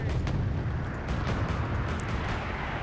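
Mortar artillery fire in the Wargame Red Dragon video game thumps through a dense, rumbling battle din, with several sharp bursts and booms scattered over a steady low roar.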